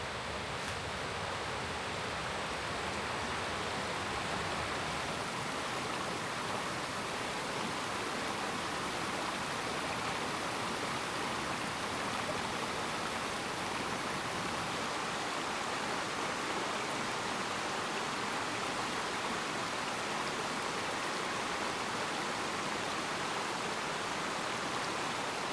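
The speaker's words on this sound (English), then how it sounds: "Through the sounds of the gushing river" A gushing river rushes through forest in Magoebaskloof as a dense, continuous roar of flowing water, steady and loud throughout with no voices.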